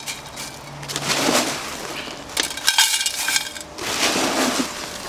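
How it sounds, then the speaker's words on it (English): Lava rock poured into a bonsai pot for a drainage layer while potting an Acer Garnet maple, heard as close, gritty clattering and clinking of stones in bursts with short pauses between them. "Now we put the lava rock"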